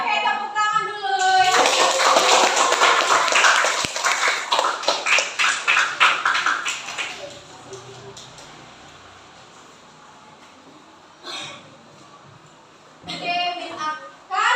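A classroom of children claps hands together in a loud, rapid burst lasting several seconds, then it fades to quiet room noise broken by short bursts of children's voices.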